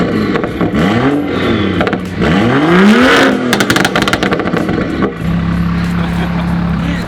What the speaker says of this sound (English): Oh, the beautiful sound of an N55 with burbles must be nice.